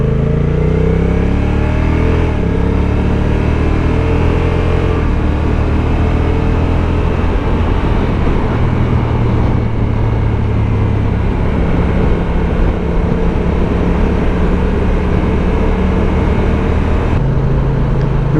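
A twin-cylinder sport-touring motorcycle, a Yamaha Tracer 9 GT or Honda NT 1100, rides at low speed with a loud, continuous engine and wind roar close to the mic, pitch shifting slightly with gear changes, no talk.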